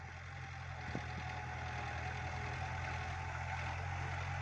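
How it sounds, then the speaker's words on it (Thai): An ISEKI NT554 tractor's engine runs at a steady idle, a continuous low, even rumble with one brief knock near the start and no talking. "ลิปนี้ก็พาเพื่อนๆมาชมครับ รถไถของอิสกินะครับ"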